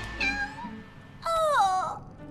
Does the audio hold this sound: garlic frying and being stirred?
no